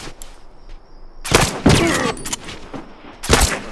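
Rifle fire in The Last of Us Remastered: a few loud, sharp gunshot bursts crack out close by, with short gaps between the volleys.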